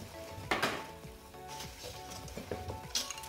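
Dry fruits being stirred with green cardamom powder in a bowl, giving irregular scraping and clinking of a spoon against the bowl with soft rustling, close and moderately quiet, with no talking.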